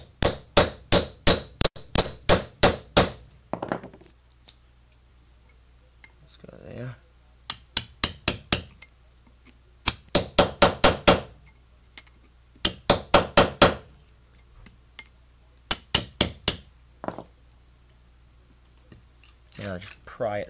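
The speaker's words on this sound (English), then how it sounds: "with a hammer. And then you can tap the winding straight through and out the other side" A hammer taps a rod to drive an old electric motor's copper winding out of its stator, producing loud sharp metallic strikes in quick bursts of five to eight blows separated by short pauses, with brief talk between bursts.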